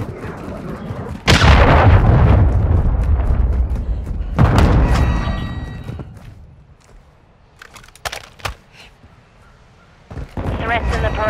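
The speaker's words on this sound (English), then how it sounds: "Friendly cruise missile inbound." Heavy booming blasts from a cruise missile strike in Call of Duty: Modern Warfare 2 multiplayer, two loud rumbling impacts followed by scattered gunfire cracks and fading rumble.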